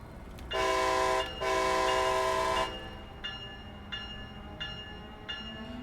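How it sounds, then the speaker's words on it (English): Loud, close horn of an Amtrak ACS-64 electric locomotive in the Train Sim World game, sounding two long sustained blasts with a short gap between them, followed by the steady clanging of the locomotive bell and a low running hum. "Give it the old blast of the horn."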